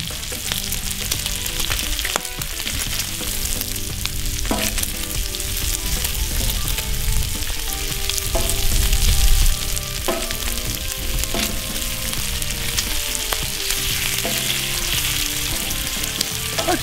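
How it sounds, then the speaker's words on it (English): Thick-sliced peppered bacon sizzles on a grill in a dense, loud, continuous crackle that swells briefly midway, with no voices over it. "If you have a good grill, it doesn't take long for the bacon to cook."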